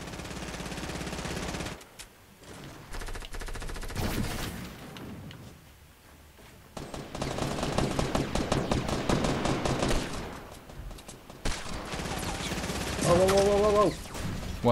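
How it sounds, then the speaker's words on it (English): Gunfire in the Fortnite video game, rapid bursts and volleys of shots close up with short gaps between them, a few electronic tones near the end. "I got shot at."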